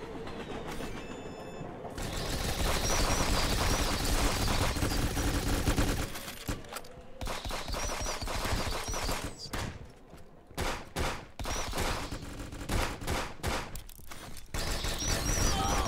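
Gunfire rattles through a video game in dense, rapid bursts, with near-continuous volleys broken by a few short pauses and choppy stretches of shots.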